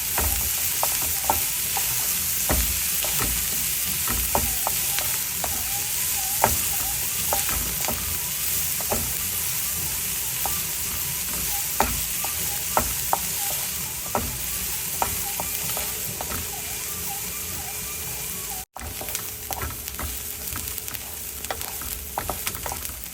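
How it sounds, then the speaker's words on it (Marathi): Finely chopped onion sautés in a pan with cumin and mustard seeds, a continuous close sizzle punctuated by frequent spoon-stirring clicks and scrapes, with no talking. "बारीक केलेला एक कांदा हा छान आपण परतून घेऊया"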